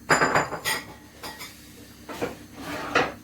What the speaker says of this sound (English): I'll remove my dishes.